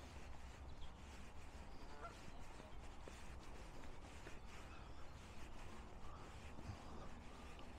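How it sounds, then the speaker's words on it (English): Geese honk at a distance in a country park, faint scattered calls over a steady outdoor background hum, with no voices. "That's geese."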